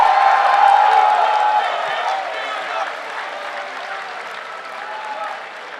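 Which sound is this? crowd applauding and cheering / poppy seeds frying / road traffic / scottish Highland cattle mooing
crowd applauding and cheering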